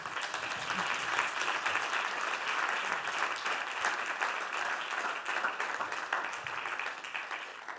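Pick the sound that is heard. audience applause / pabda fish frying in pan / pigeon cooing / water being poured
audience applause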